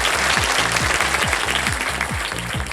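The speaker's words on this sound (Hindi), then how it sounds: "ताली भी बज गई साथ में" A studio audience on a television quiz show claps steadily, a dense burst of applause running throughout over a pulsing rhythmic music beat.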